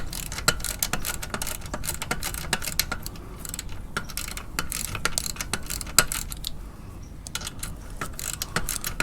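Rapid ratchet clicks in quick repeated bursts as bolts on the foot peg of a 2021 Honda CRF110 dirt bike are tightened by hand, close and fairly loud with short pauses between runs.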